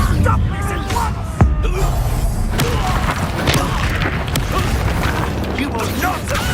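Spell-casting effects in the Hogwarts Legacy video game, with Stupefy and Incendio cast during a duel, producing a sharp boom and crash among steady clattering mechanical game effects, under continuous music and background sound.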